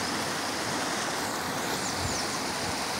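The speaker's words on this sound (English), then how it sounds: "This is how the river look like." A river flowing fast near a village in Africa, a steady broadband rush of water heard close and continuous.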